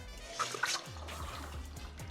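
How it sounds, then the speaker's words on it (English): Water drains off soaked lentils being prepared for sprouting, a soft close trickle and dribble with a few faint drips, quiet and unaccompanied by talk. "We're gonna get rid of the water."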